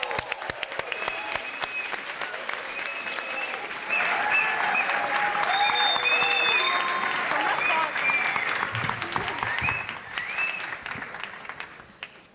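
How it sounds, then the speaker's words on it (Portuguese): A conference audience applauds continuously, dense clapping from a large crowd filling the room, swelling midway and tapering off toward the end, with some voices mixed in. "Obrigada pelos aplausos."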